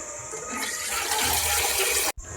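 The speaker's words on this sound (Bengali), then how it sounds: "আমার কড়াটা মাজা হয়ে গেছে, আমি ধুয়ে নিই।" Water runs steadily from a tap onto a freshly scrubbed kadai in a home kitchen, a continuous close splashing rush that cuts off abruptly near the end before resuming briefly.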